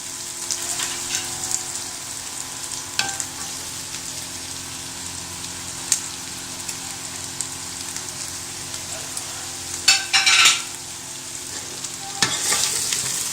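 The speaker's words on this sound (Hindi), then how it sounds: "अब हम इसमें गाजरें मिक्स करेंगे" Carrots being stirred into peas frying in a pan, a steady soft sizzle with scraping stir strokes and a few louder clatters, close and without talk.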